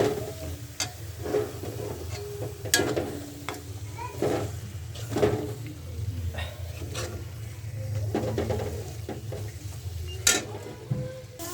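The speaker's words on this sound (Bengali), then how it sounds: "এবার আমরা ভালো করে মাছের সঙ্গে মিশিয়ে নেব।" Blended banana flower and fish are stirred together in a frying pan, with repeated spoon scrapes and clinks over a low sizzle, fairly close.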